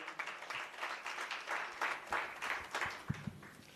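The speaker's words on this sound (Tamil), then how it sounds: "ஒரு கைத்தட்டி உற்சாகப்படுத்துவோம்." A church congregation at a special service for the blind claps hands together, a moderate, slightly pulsing wash of applause with a couple of louder claps near the end.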